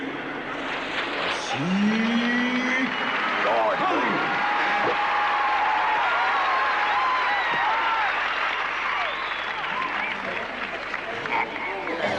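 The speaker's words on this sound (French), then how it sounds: "Et maintenant, applaudissez celui qu'on ne présente plus" Clapping from an audience at a stage show welcoming a performer, sustained and even, mixed with other noise and tonal sounds throughout.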